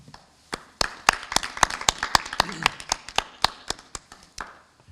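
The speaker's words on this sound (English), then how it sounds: "a round of applause for the class of" Sparse, irregular hand claps from a small audience at a 2020 high school commencement, crisp individual slaps close to the microphone rather than a full ovation, with faint background murmur.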